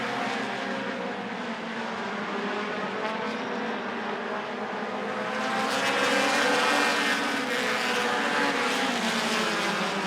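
Dash Series race cars roar around the Rockford Speedway oval during a Midwest Dash feature, a dense, continuous engine drone swelling louder as the pack passes close, with no voices over it.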